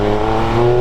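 A Triumph Speed Triple 1200 RS motorcycle engine revs hard in sport mode, a loud, close, steady tonal roar that holds its pitch through a short burst, with no voices over it.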